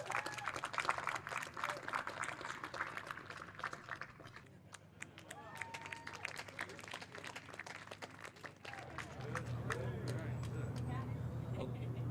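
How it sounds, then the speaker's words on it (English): Audience applause at a college radio event, a crowd clapping with scattered sharp hand claps over a murmur of voices, the clapping thinning into a steadier background hum near the end. "Let's give these folks a round of applause."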